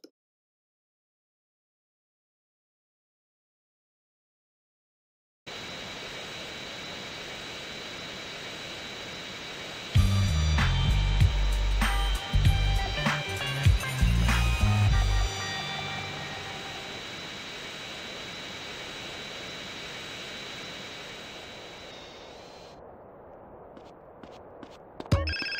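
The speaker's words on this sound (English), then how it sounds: "fast forward through to where CJ lands the airplane and the mission is" A jet airplane flown by CJ comes in to land in GTA San Andreas, a steady loud engine roar after a silent start, with a burst of heavy rumbling thumps midway and game sound effects near the end.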